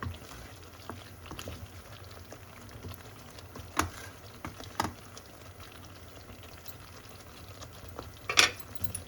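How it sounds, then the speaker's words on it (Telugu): A pot of tomato rasam simmers on the stove with a soft, steady bubbling hiss. Faint scattered pops and clicks sound throughout, with one brighter clink near the end. "టమాటా రసం మరుగుతుంది కదా"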